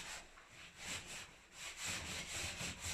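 A surface being scrubbed with cleaning product during a renovation, soft rhythmic back-and-forth rubbing strokes, faint and close, with no voices.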